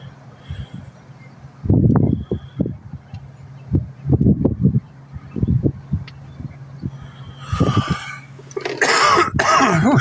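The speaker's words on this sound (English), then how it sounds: "I got a cough I cannot get rid of" A person with a lingering, stubborn cough hacks several times up close, in short rough bursts with a throat-clearing quality, followed by a harsher cluster of coughs near the end over faint rustling background.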